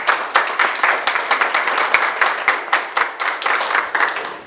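Audience applause at a university panel of specialists, a dense steady patter of many hands clapping throughout with uneven swells, no voices over it.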